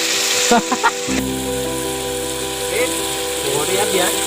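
Onions fry in hot oil with a steady, close sizzle, broken at the start by a few sharp clinks and knocks before the crackle settles into a continuous hiss with faint background sounds.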